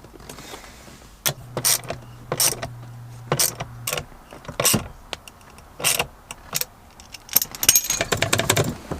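Ratchet tightening the bolts of a Revin chassis-mount shifter in a BMW E39 530i: close bursts of rapid clicking separated by short pauses, with a brief low hum and scattered metallic clatter.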